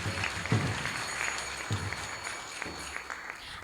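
Applause at a graduation ceremony at the Bhaktivedanta College of Education and Culture, a soft, steady patter of many hands heard from a distance, fairly faint throughout.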